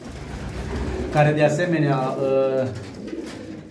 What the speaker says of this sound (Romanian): Sunt o grămadă de porumbei.